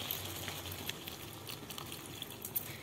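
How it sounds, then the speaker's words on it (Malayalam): About a cup of water pours into a pan of long bean (achinga payar) masala curry, giving a steady, even splashing hiss that runs without a break, moderately quiet. "എന്നിട്ട് നമുക്ക് ഇത് വേകാനുള്ള വെള്ളം ഒഴിക്കാം"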